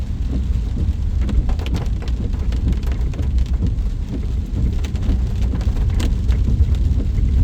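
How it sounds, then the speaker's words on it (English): Steady, fairly loud rain falling continuously, a dense hiss with scattered drops pattering on surfaces throughout. "Even though it's rained all night"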